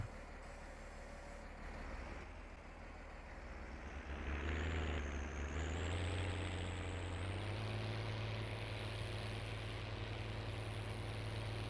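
A tractor engine in Farming Simulator 19 strains under load: a steady, loud low drone that swells and rises in pitch partway through, then holds a heavier, higher whine to the end.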